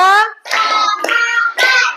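Indonesian classroom clapping chant: a group claps out a short counted pattern in quick bursts, each set of claps mixed with children and a teacher chanting along, near and lively.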